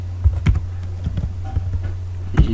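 Someone types on a computer keyboard with a scattered run of sharp, close key clicks, a few louder taps standing out over a low steady hum, with no talking.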